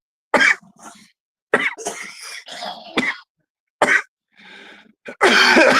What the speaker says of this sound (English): having a cough off